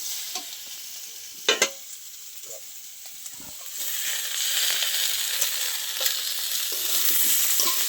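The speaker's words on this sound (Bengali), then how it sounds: "এবার আমি ভেজে রাখা মাছের ডিম দিয়ে দেবো।" Fried fish roe tipped into a pan of potatoes and spices for a Bengali pui shak dish, with steady sizzling and frying, a couple of sharp spoon knocks, then stirring as the hiss grows fuller.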